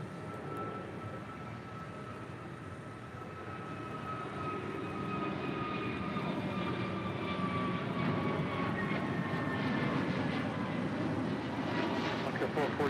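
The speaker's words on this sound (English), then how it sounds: "That is Alaska Airlines Flight 440 departing to Cancun on an A321neo." An Alaska Airlines A321neo jet departs from LAX, its engines building into a broad, steady roar with a whining tone that grows slightly louder and holds throughout, with faint talk underneath.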